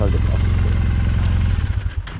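An 865 cc motorcycle engine idling nearby, a loud steady low rumble with an even pulsing beat throughout, wavering slightly near the end, with conversation going on over it.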